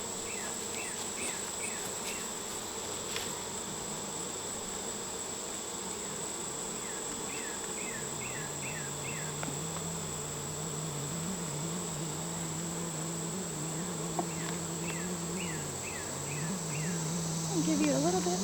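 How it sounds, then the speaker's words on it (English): Honey bees droning steadily around an open hive during an inspection, a continuous near buzz with one bee circling close, plus faint bird chirps and a low hum in the background. "I got one bee around my head that does not want me here."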